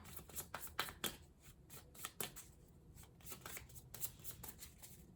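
Tarot cards shuffled by hand during a reading, a quiet, close series of papery riffles and flicks in irregular bursts, with no voices.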